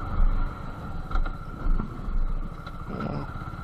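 A Suzuki Gixxer SF ABS FI motorcycle engine rumbles with a deep, pulsing exhaust note, swelling in a few gentle revs before settling back to a throaty idle.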